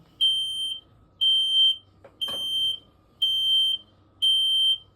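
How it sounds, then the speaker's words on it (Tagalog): A high-pitched electronic gas leak alarm beeps steadily, five evenly spaced tones each about half a second long, with a brief clatter partway through. "May alarm lang yan."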